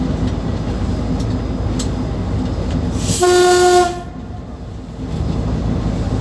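One short, loud horn blast from a TU7A diesel locomotive cuts through the steady rumble and rattle of a moving narrow-gauge train in Kyiv.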